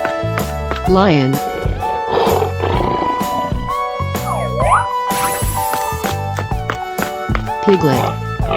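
A cartoonish lion roars in a 3D animal slide video game, the growl rising over busy background game music with assorted playful sound effects around it.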